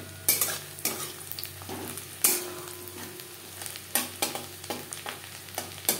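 Two medium chopped onions fry in a pan for a Bengali mochar ghonto, a soft continuous sizzle broken by repeated sharp scrapes and clanks of a spatula stirring, close and without talk.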